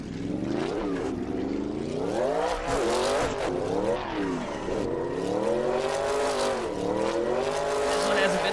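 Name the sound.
drift car engine and tire squeal in a video game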